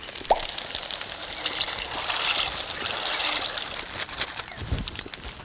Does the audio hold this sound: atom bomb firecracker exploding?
no